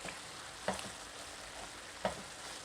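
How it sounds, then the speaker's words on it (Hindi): Eggplant fries in a pan, making a steady soft sizzle with two distinct louder clacks or pops, as if a utensil strikes the pan, spaced about a second and a half apart. "अब मैं इसी पैन में बैंगन को फ्राई कर लूँगी"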